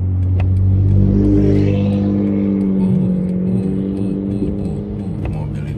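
A car drives and accelerates through a snowstorm, its engine humming steadily with a strong, rising drone that stays close and loud throughout.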